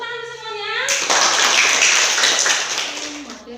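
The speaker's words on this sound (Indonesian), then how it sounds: "Tepuk tangan semuanya." A classroom of students breaks into a brief round of dense hand clapping after a teacher's prompt, with speech just before and as it fades.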